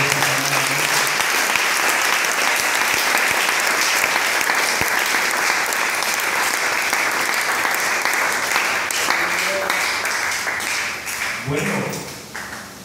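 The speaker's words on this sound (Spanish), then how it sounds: "dale un aplauso al Señor." A church congregation applauds loudly and steadily for about twelve seconds at a Spanish-language worship service, with a few raised voices over it before the clapping thins and fades at the end.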